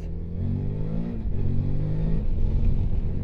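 A QJ Motor V2 motorcycle engine revs on the throttle up close, its loud, steady, throbbing drone rising and falling slightly in pitch with no pauses.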